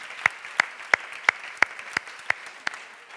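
Sparse, slow rhythmic claps at a book presentation, about eight distinct evenly spaced hand claps over faint room murmur, sounding like one or a few people clapping rather than a full audience.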